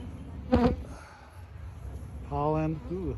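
Honeybees buzz at an open hive during an inspection. A low, continuous hum sits under two brief bursts of nearby talk.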